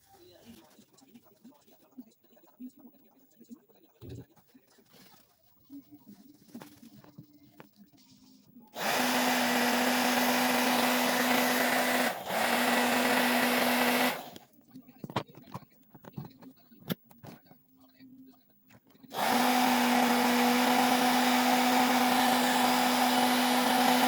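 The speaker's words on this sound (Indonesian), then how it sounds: "terus kita keringin pakai hair dryer" A hair dryer blows air to dry a wet RC servo, switching on and off in two long loud bursts with a steady whining hum, separated by quieter handling sounds.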